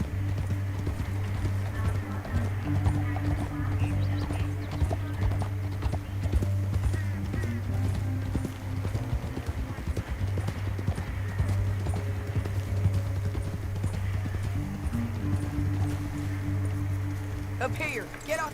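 Horses gallop continuously through Red Dead Redemption 2, their hooves clip-clopping in a fast, steady rhythm under a droning musical score, with a neigh and some talk mixed in.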